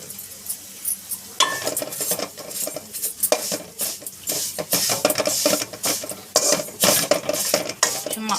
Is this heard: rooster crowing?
no